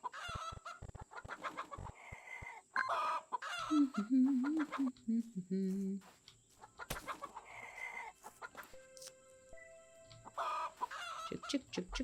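Chickens clucking in the farming video game Garden Paws, several short game-animal calls scattered through the clip, moderately loud over soft background game music with a few chimes.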